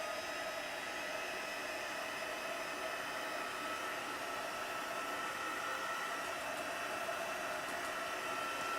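A heat dryer blows steadily on embossing paste, a constant even whirring roar held for several seconds without pause or speech.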